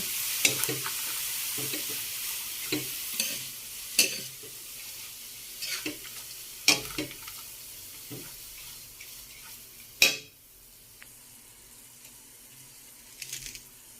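Bean sprouts being sautéed and stirred in a pan, with a steady sizzle broken by repeated scraping stir strokes and sharp clinks, then a quieter sizzle near the end.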